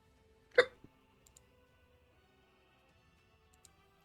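One sharp hiccup bursts out near the start, close and fairly loud, followed by a small second catch and then near silence with only faint ticks.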